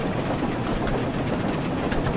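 Percy the small engine from the Thomas and Friends game Wonders of Sodor runs at top speed, pulling coaches with a steady, loud rumble and rattle of wheels, and no one talks.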